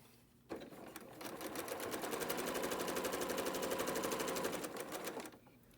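A sewing machine runs steadily for about five seconds, stitching a quarter-inch seam through pieced quilt fabric for a maple leaf block. Its rapid, even needle clatter sounds close and loud, starting and stopping abruptly, with no talking.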